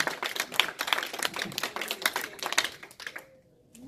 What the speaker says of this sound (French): Applaudissez pour le Seigneur pour cette fois.